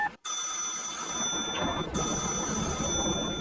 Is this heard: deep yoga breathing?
no